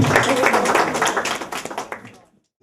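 Applause for a girl at a wedding center event: a dense burst of clapping for about two seconds, tapering off and ending in silence.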